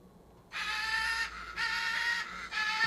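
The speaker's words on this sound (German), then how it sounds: "Ein Vogelkäfig mit einem sehr lebhaften Papagei" A lively caged parrot in an adventure game squawks loudly in three harsh, drawn-out bursts, close and alone against a quiet background.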